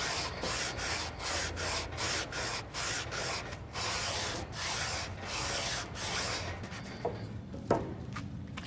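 Sanding a new radius into a guitar fretboard by hand after the frets and nut are removed. Loud, close, rhythmic back-and-forth rubbing strokes, roughly two per second, keep up steadily, then stop and give way to a few light knocks.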